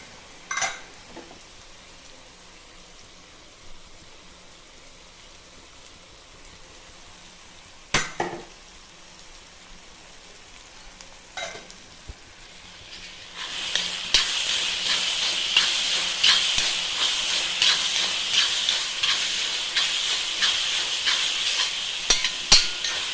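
Curd poured into dum biryani masala in a pan, first a few sharp scrapes and clinks over quiet hiss, then a loud, steady sizzle and crackle with stirring that continues to the end.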